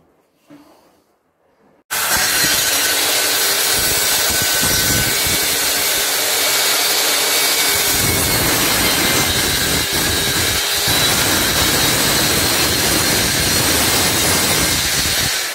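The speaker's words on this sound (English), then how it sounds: "So now I've got my 4 backs cut to size" A power saw cuts wooden drawer back panels about 16 mm thick to size, starting abruptly after a near-silent couple of seconds and then roaring loudly and steadily with a harsh, hissing whine to the end.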